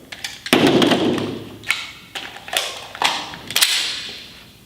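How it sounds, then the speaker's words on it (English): A pistol is reloaded using only the support hand, with its slide racked off the thigh: a sharp metallic clack and thump followed by several quick, close handling clicks and taps, with no talking. "that time I ran the slide off of my thigh muscle"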